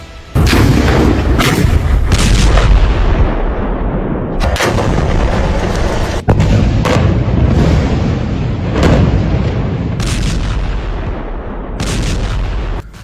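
Explosions and rocket fire from Israeli strikes in the West Bank, a dense barrage of loud booms and cracking blasts with repeated sharp bursts over continuous rumbling, no talk.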